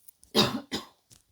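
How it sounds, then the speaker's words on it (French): Two quick coughs close to the microphone, followed by a faint throat sound, in an otherwise quiet room. "j'ai retiré l'écouteur et je l'ai mis loin pour tousser"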